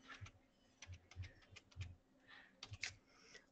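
Typing on a computer keyboard, a quiet close run of irregular key clicks with short pauses, alone with no talk.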